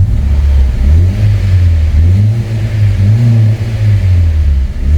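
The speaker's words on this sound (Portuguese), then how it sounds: "Fora isso, motor funcionando redondinho. Vou mostrar aqui no RPM para vocês." A Honda Civic engine, running smoothly after a misfire fault, revs up and down repeatedly in loud, close waves of rising and falling pitch, with no talk over it.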